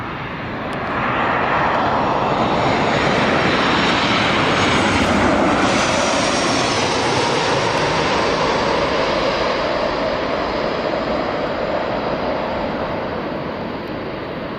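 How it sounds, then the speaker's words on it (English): A Ryanair airliner on approach to Newcastle Airport lands with a loud, steady jet engine roar that builds and then holds close by. No voices are heard. "Right, here comes the Ryanair."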